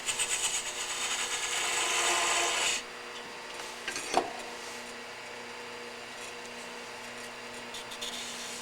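Lathe tool undercutting a spinning wooden ornament during woodturning, a loud steady rasping cut for a few seconds that stops abruptly, leaving a quieter motor hum with a short clack.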